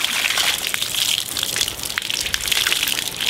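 Water running and draining out of a Scrubba wash bag, a flexible travel laundry bag with clothes inside, held in the hands; a steady close splashing gush with no talk.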